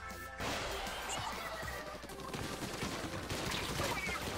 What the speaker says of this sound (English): They're shooting at me! They're shooting!